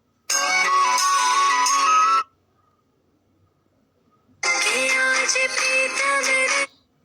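Phone ringtone melody played in two short bursts of bright, tuneful electronic tones, each about two seconds long, separated by a quiet gap.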